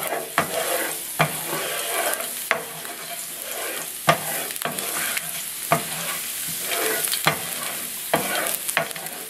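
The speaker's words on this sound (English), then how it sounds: "We will need the garlic first. And then stir for 10 seconds." Garlic stir-fried in a pan for beef broccoli, a steady close sizzle broken by regular sharp scrapes and taps of the spatula, roughly one every second, with no talking.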